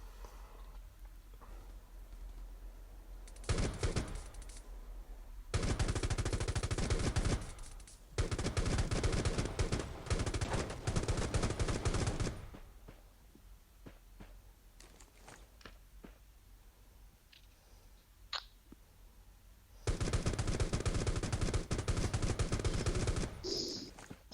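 Bursts of automatic gunfire in the mobile battle royale game Rules of Survival, several long sustained volleys loud and close, separated by quieter stretches with faint clicks and a few isolated shots.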